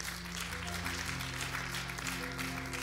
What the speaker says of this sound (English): your clap is so weak.